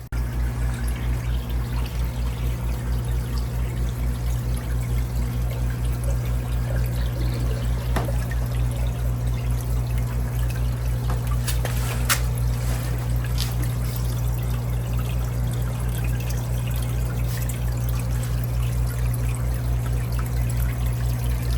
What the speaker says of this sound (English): We've got water running on all.